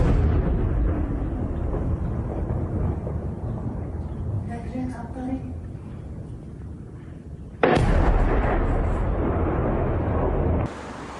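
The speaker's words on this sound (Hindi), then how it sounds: "गोलीबारी की आवाज जो है वो लगातार तेज हो रही है" Rumbling blasts of artillery and gunfire from a Hezbollah attack inside Israel, a continuous heavy roar with a louder burst near the end, and faint voices underneath.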